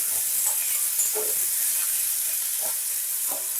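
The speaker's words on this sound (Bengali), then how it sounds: "আলুটাকে একটু লাল লাল করে হাই ফ্লেমে ভেজে নেব" Small potato pieces, cut with their skins on, frying over a high flame give off a steady, close hiss of sizzling oil with a few faint clinks and stirs, and no talk over it.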